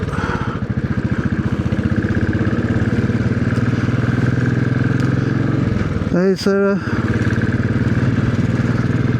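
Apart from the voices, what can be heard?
Royal Enfield Classic 500 motorcycle riding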